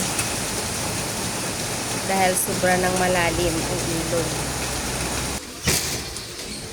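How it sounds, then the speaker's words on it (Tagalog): Steady heavy rain hiss fills the scene throughout, with someone speaking over it partway through. "Ulan pa rin dito. Malakas ang ulan."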